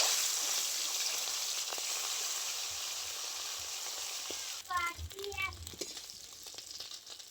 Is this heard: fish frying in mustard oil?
yes